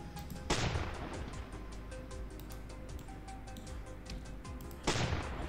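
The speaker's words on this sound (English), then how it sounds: "I gotta shoot these things here." Two sharp gunshot blasts go off in the Roblox game Build A Boat For Treasure, one near the start and one near the end. Between them runs a quieter stretch of faint ticking and game ambience.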